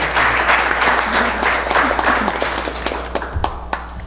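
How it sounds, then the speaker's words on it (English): A seated audience applauds the panelists at a community discussion on domestic violence in Birmingham and Jefferson County, steady mixed clapping filling the room before thinning toward the end. "Well, a round of applause for y'all."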